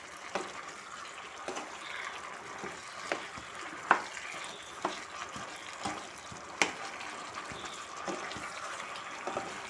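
Fried cauliflower is tossed into Gobi Manchurian sauce in a pan, a quiet sizzle under scattered soft scrapes and clicks of a spoon mixing, close but faint.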